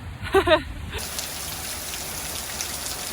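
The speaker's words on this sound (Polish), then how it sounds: "Niestety nie udało się dojechać do domu przed deszczem. Leje." Steady downpour of rain in Florida, a dense even hiss that takes over after a brief burst of voice at the start and holds at moderate loudness.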